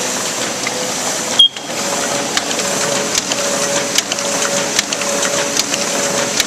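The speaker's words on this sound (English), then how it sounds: "Very smooth, quiet running machine." A Ryobi 3302H two-color offset printing press from 2016 runs steadily with a smooth mechanical whir and a soft repeating rhythmic ticking, plus one brief louder clunk early on.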